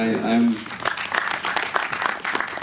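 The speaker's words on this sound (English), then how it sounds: "I think that really deserves a round of applause." Audience applause at a panel conversation session with a film director and an actor breaks out after a voice, then carries on as a patter of clapping of moderate loudness.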